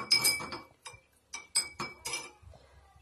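A spoon clinks against a glass while honey is stirred into hibiscus flower tea, giving several bright, separate taps and scrapes at close range with short pauses between them.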